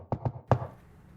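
Knuckles rap on an ornate wooden shrine door, three close, hollow knocks, two quick then one slightly firmer after a short pause, near and alone.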